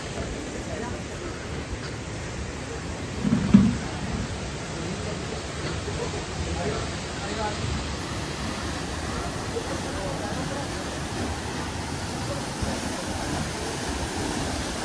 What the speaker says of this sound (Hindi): झरने झरना वो गिर रहा है झरना, एंड कितना क्रिस्टल क्लियर पानी है एकदम।